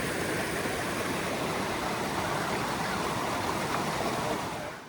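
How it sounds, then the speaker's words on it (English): Water from the Cascades of Lefroy Brook rushes steadily in a dense, constant roar that fills the scene and fades slightly at the end. "So I'm down at the Cascades."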